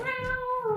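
Kitten meowing on stage during a school Christmas play in English, a single drawn-out, steady meow held close and fairly loud for under a second, with no talking over it.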